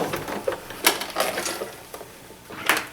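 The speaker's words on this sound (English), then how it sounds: "Very slowly we're going to stitch across, back stitch." A sewing machine stitches slowly across thick denim for a blue jeans purse, back-stitching in short, uneven mechanical bursts with clicks and whirs close by.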